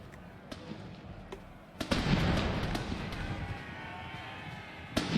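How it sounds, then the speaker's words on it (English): Musket volley fire in a Napoleon Total War pike-and-shot mod, sharp cracks followed by a dense rolling rattle of many shots, with distant battle noise underneath and another sharp report at the end. "So let's shoot at these guys here."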